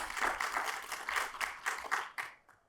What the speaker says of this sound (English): a round of applause for them right from the get-go